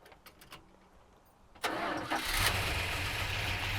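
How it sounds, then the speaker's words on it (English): A Mopar big-block V8 cranks with a few faint clicks, then fires abruptly and settles into a loud, lumpy idle with a slight rev, heard up close with no talking. "Fire it up. Let's hear what it sounds like."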